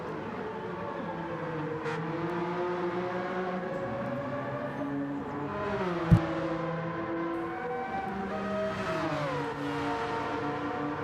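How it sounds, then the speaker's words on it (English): Mazda 787 race cars with rotary engines in Gran Turismo 7, a steady high-pitched whining drone that rises and falls in pitch as several cars rev through the range, with one sharp click midway. "watching and listening to these rotary engines"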